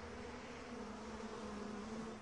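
Flies buzzing in a steady, continuous drone that holds evenly throughout at fairly low volume, with no voices present.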